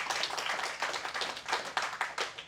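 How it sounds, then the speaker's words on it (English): An audience claps in a round of applause for staff at an education festival, a steady mid-distance patter of many hands with no talk over it. "So just a round of applause for our amazing team"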